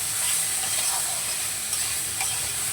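Green banana and potato pieces with turmeric fry in a pan, a steady oily sizzle and hiss broken by soft scraping as they are stirred, close and continuous.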